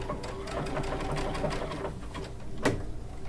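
A Baby Lock Altair sewing machine stitching with a circular sewing attachment, giving a steady fast mechanical whir of needle strokes. Near and moderately quiet, it ends with a brief clunk.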